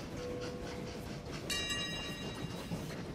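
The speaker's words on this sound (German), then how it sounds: "Boah, der war richtig schnell da unten, der Zug." A train rolls by in the railway-building video game Train Valley, a steady mechanical rumble with a thin whistle tone early on and a bright, ringing metallic chime that rises midway and fades, all fairly quiet.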